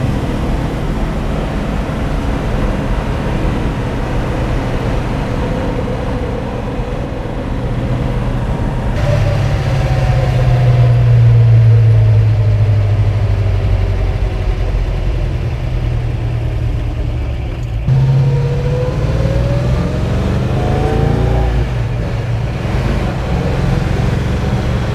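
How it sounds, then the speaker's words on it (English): A classic K Code Ford Mustang engine idles with a steady low rumble, then revs twice in loud rising pulls, close and prominent, settling back between bursts. "That's the best thing about cars like this is the noise they make"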